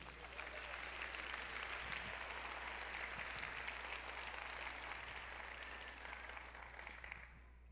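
A church congregation applauds steadily throughout, a dense and sustained wash of clapping at moderate distance that fades slightly toward the end.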